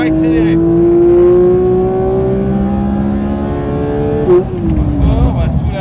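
A Porsche 992 GT3 with manual transmission revs loudly on the Dijon-Prenois circuit, steadily climbing in pitch as it accelerates, then dropping briefly before pulling again, with a continuous close motor roar.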